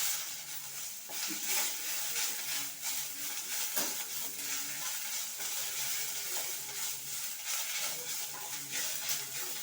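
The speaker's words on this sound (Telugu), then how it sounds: "కరివేపాకు పడేస్తాం వేసేస్తాం" Curry leaves hitting hot oil for a chutney, a bright continuous sizzle and crackle with stirring scrapes and bursts of spattering, close and steady for about ten seconds, with faint speech in the background.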